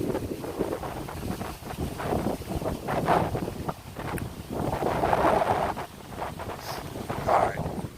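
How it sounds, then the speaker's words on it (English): Strong wind buffets a microphone outdoors, a continuous loud rumbling roar with gusty surges and no other clear sound. "Shit is fucking windy."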